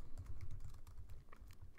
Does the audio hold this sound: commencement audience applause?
no